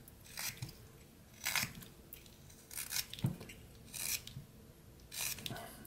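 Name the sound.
knife whittling wood, cutting back a carving's hat brim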